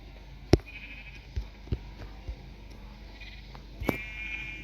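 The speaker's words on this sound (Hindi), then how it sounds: "मैंने बहुत सारी बकरी और गायों को खिला दिया है।" Goats and cows being fed in the Minecraft video game: a few short, sharp bleats and animal calls scattered across the clip over a quiet background, with a couple of brief electronic tones between them.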